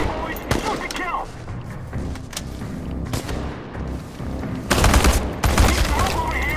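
Gunfire in the video game Chernobylite: loud bursts of automatic and single shots with booming impacts, heavier volleys near the end, mixed with shouted voices.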